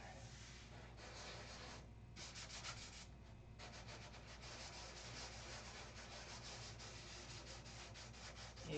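600 grit sandpaper works over the silkspan covering of a model aircraft in a steady close rubbing hiss, with a couple of brief pauses between strokes.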